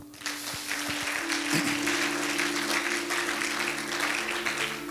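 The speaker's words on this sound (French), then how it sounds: "Acclame pour Jésus" A church congregation applauds in a dense, steady wash of clapping that runs loud through the whole stretch, with a sustained tone, like music, humming underneath.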